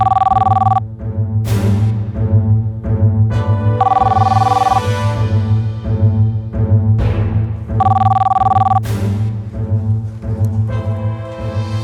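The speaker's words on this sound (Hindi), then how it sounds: "ठीक है विष्णु, हम 10 मिनट में अनु को फोन करेंगे" A telephone ringing loudly in a tense crime-drama scene, with repeated bursts of electronic bell-like tones separated by short gaps over a steady low musical bed.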